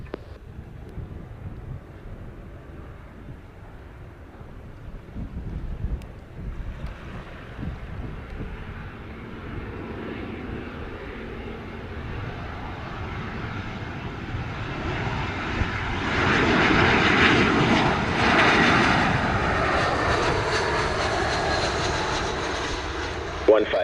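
A JetBlue airliner lands on runway 7 at Sangster International Airport in Montego Bay, Jamaica, its engine roar swelling from faint to loud and rushing past with wind buffeting the microphone, while tower radio talk plays underneath.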